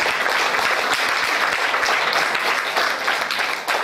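An audience at a legal-awareness programme claps in welcome, dense continuous applause from many hands throughout, fairly loud and even with no clear voices.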